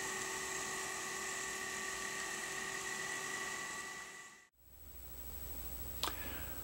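A Fox Valley Models model locomotive motor with a freshly installed DCC decoder runs with a steady high-pitched whine and buzz for several seconds, then cuts off abruptly, leaving a quiet hum and one brief click.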